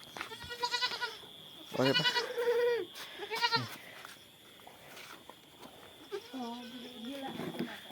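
Goats bleat nearby in a few wavering, nasal calls spaced several seconds apart, with quieter rustling and people talking between them.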